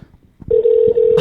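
A phone call placed to a McDonald's restaurant rings out as a steady, loud electronic ringback tone, holding for nearly a second after a few faint rustles, with a brief burst of noise at the end.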